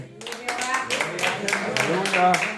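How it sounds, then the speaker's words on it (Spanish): Church congregation claps together at a sermon, sharp irregular handclaps building after a brief pause, fairly close, with voices calling out over the clapping. "Den un aplauso a Cristo."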